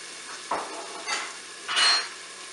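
Onions drop into hot oil in a Cookeo pot, giving three short bursts of sizzling and stirring that swell and fade against a quiet background hum, with no talking.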